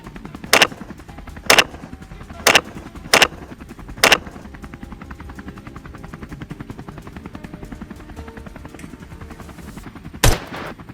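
Gunshots fired from a helicopter during a wild boar hunt: five sharp, evenly spaced shots about a second apart, then a pause and one more, over the constant low thrum of rotor noise.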